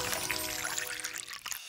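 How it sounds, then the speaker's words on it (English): Hot water at 205 degrees Fahrenheit poured over freshly roasted, stone-ground coffee, a close, continuous trickling pour that thins out and stops near the end. "Lastly, you pour over hot water at 205 degrees Fahrenheit."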